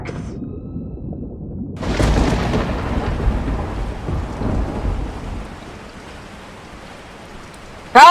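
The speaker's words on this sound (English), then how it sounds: "1 second it's bright and sunny, and the next it's raining cats and dogs." A sudden thunderstorm with heavy rain in an animated superhero cartoon: after a quiet start, a loud crash of thunder breaks in and a steady roar of downpour follows, easing slightly toward the end before another sharp burst.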